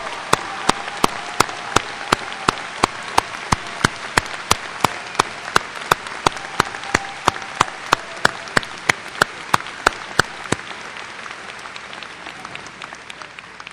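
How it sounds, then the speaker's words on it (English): Large audience at a 2004 graduation ceremony applauding first-generation college graduates, a loud sustained wash of clapping that fades toward the end, with a regular loud tap repeating through it. "Let's give them a round of applause."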